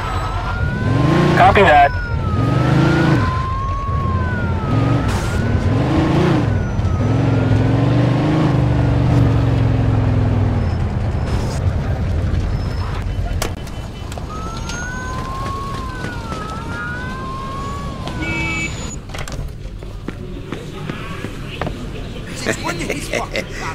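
A police car siren wails through a Mafia 2 car chase, its rising and falling tones loud over a roaring engine and traffic noise, with brief radio-style talk and other voices in the mix.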